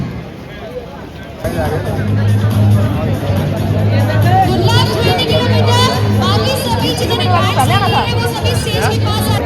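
A busy crowd at an outdoor World Bicycle Day celebration, loud overlapping chatter and babble that continues steadily, with a low engine-like hum running underneath and a nearby voice talking over it.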